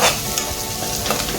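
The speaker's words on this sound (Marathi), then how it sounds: "छान फ्राय करून घेऊया. कोथिंबीर मस्त तेलामध्ये फ्राय केली की अजून कोथिंबीर वडीची चव दुप्पट होते." Finely chopped coriander sizzles steadily while being stirred and sautéed in oil with a spice mix for crispy kothimbir vadi, a close, continuous frying hiss with light scraping from stirring.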